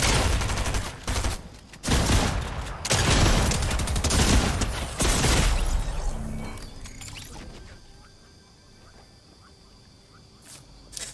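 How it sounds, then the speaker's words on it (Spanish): Rapid, loud gunfire and crashing bursts from a Fortnite match, including a two-shot shotgun, dense for about six seconds and then fading into quieter game ambience with faint tones. "El señor con peor puntería del mundo me ha matado con una escopeta de 2 tiros."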